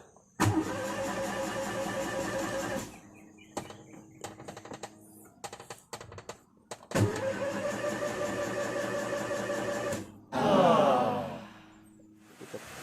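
A car engine cranks repeatedly without catching; the car has a fault where it died mid-drive and now turns over but won't start. Several long, loud starter bursts alternate with brief pauses and clicks, with no voices.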